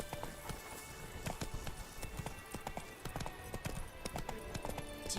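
Horse hooves clip-clop in a steady, fairly close rhythm of sharp repeated strikes, with faint background noise and no voices.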